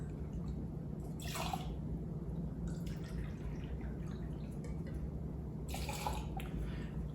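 Red table wine pours into a metal cocktail tin in short splashing bursts, faint and close over a low steady background hum.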